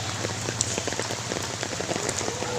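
Heavy typhoon rain pours down steadily during Typhoon Carina in Pasig, a dense, continuous hiss of drops hitting surfaces nearby with no voices.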